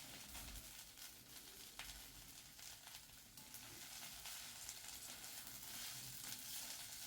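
Coriander leaves fry in a pan for a coriander pickle, giving a steady, loud, dense sizzle throughout with occasional soft stirring knocks and no voices.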